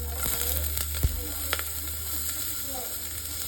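Onions and poblano peppers sizzle steadily in a pan for a black bean stew, a constant soft frying hiss with a low hum underneath and a couple of brief clicks, no talking.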